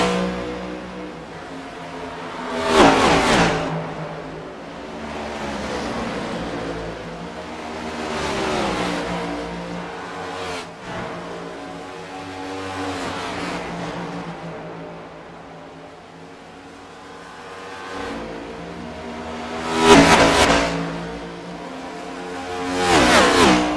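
Several race cars roar past at Dover International Speedway in an iRacing sim race, engines surging loud and close in repeated passes, rising and falling through the stretch with the strongest bursts early and near the end.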